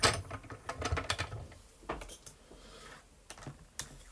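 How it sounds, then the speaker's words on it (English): A paper card is cranked through a manual embossing machine, giving irregular mechanical clicks and grinding rattles, louder at the start and then scattered, close by with no talking. "And I'm just going to run this through my machine."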